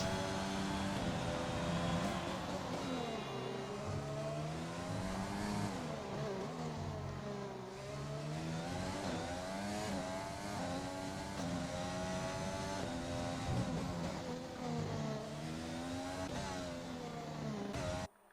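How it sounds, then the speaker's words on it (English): Race car engines roar in a sim racing game, with one car leaving the pit lane and another rounding the final corner. High revs rise and fall with shifts, loud and continuous throughout. "There is a car leaving the pit lane. There is one coming around the final corner as well."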